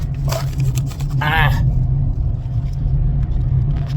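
A car is being driven, a loud, steady low engine rumble and road drone filling the cabin throughout, with a brief voice and a short squeaky sound near the start.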